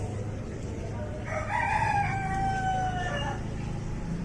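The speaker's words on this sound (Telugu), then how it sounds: "కోళ్ళు అరుస్తున్నాయి చూసారా" A rooster crows once in the morning at a moderate distance near a rooftop garden, a long rising-then-falling call over a low steady background hum.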